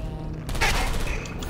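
Automated turret gunfire from the Portal 2 co-op video game, a sudden loud, dense rattle of rapid shots that bursts in after a brief low rumble and keeps sputtering steadily to the end.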